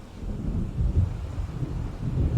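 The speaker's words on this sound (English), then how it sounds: "It seems there's a storm coming." Low rolling thunder from an approaching storm in the Alan Wake game, a continuous deep rumble that swells and ebbs, with faint wind and rain, no voices.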